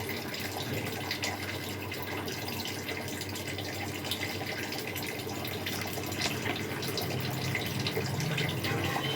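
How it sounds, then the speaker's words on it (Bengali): Tap water runs steadily and close by while flattened rice (chira) is rinsed two or three times in a home kitchen, a constant broadband wash with no talk. "চেরা নিয়েছি এটাকে জল দিয়ে ভালো করে দু তিনবার ভালো করে ধুয়ে"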